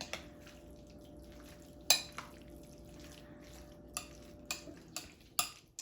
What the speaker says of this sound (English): you're just going to give this a really good mix